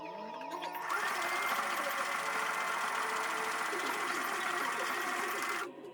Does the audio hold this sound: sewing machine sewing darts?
yes